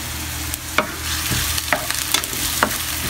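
A utensil stirs chopped onion into beaten egg in a bowl for an omelette, giving a run of soft scraping swirls with a few sharp clinks against the side and a faint sizzle from a pan nearby.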